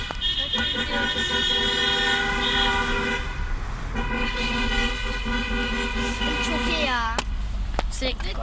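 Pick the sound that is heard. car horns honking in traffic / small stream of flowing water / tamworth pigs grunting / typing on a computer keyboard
car horns honking in traffic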